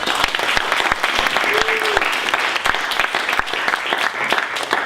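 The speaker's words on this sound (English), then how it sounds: "Can we have another round of applause for Anna for organizing?" A crowd applauds, sharp individual claps standing out over a dense, sustained wash of clapping that stays loud and steady throughout.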